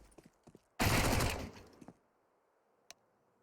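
P250 pistol gunfire in a Counter-Strike match, heard as a loud dense burst of shots lasting about a second with a few sharp pops before and after, then a single faint crack near the end.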